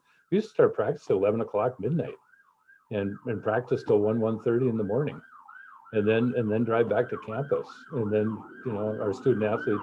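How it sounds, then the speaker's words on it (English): Emergency vehicle sirens wail outside a home office, a steady rising and falling tone carrying on beneath continuous, nearby talking. "sorry about the sirens in the back."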